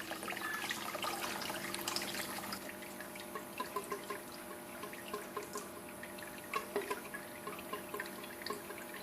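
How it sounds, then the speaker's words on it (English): Running water splashes and drips while rocks are washed, a faint steady trickle with small irregular splashes and clicks of stone, no talking. "Gonna have to wash those rocks"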